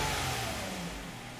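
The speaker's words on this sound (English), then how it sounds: "As you can hear, the engine is running" Toyota Avalon engine running rough with a misfire and a flashing check engine light, a steady close mid-range engine drone with slight unevenness throughout, no talking over it.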